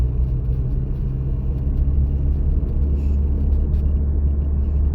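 Car driving on a city road during a driving test, a steady low engine rumble and road hum heard from inside the cabin, with no talk.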